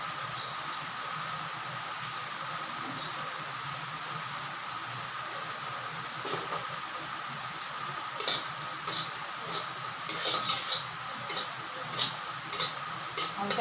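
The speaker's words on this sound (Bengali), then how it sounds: "জিরা আর ধনিয়া এই মশলা দুটোকে হালকা ভেজে নেবো" Cumin and coriander seeds dry-roasting in a wok, a steady soft hiss broken by scattered light scraping taps that grow busier toward the end, with no voices.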